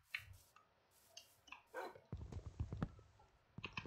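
Minecraft dog barking: a few short, sharp synthetic barks and yips in quick bursts, fairly clear against a quiet game background with low ambient rumble.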